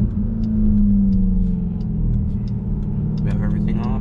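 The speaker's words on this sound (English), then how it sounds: "Bro, that supercharger sounds so sick." Supercharged engine of a 2021 Dodge Durango SRT Hellcat pulling under acceleration, a loud steady low rumble with a rising whine, heard from inside the cabin while people talk over it.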